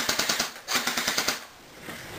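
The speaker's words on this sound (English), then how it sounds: "the ever-popular full-auto" M4 airsoft electric gun fires on full-auto in two quick bursts of rapid, evenly spaced clicking shots, fairly close, followed by quieter mechanical handling noise.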